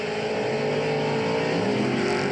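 Loud, close roar of a Pro Comp off-road race truck with Leon Patton power at a 2009 LOORS race at Lake Elsinore, its engine held at a steady high drone throughout.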